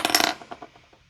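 Crochet yarn is snipped with scissors in a quick, close burst of two or three crisp cuts, followed by a few faint taps and rustles as the work settles.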